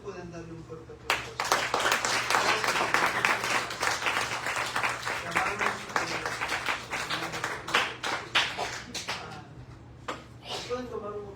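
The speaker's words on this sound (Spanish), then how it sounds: "¿Cuántos pueden darle un fuerte aplauso?" Church congregation applauding together during a Sunday worship service in Cuernavaca, a dense continuous wash of clapping for about ten seconds that thins toward the end, with voices mixed in.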